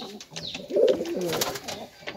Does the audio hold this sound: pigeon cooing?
yes